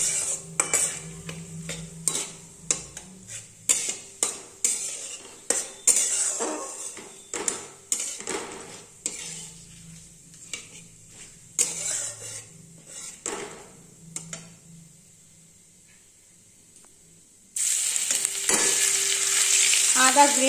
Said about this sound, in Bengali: ফোড়নটা ভালো করে ভেজে নিচ্ছি।